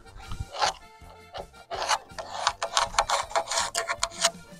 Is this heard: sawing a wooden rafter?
yes